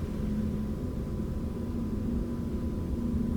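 A stationary KG Mobility Torres Hybrid emits its higher-toned synthetic virtual engine sound, a faint steady electronic drone sitting over low cabin rumble, unchanging and alone throughout.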